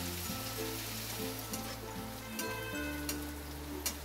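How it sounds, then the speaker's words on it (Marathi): Onion, garlic and ginger sauté in a pan with a faint, even sizzle and a few light clinks of stirring, and no one speaks. "आता हे पण त्याच्यावर चांगलं भाजून घ्यायचं"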